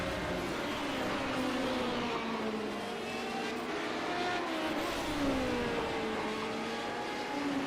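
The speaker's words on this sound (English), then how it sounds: "Callum McLeod in the pit lane in car 69, and he will drop down off the jacks" A Radical race car in a sim racing game at Okayama accelerates out of the pit lane after a tire stop, its engine note climbing steadily through gears, loud and continuous for several seconds with no voices.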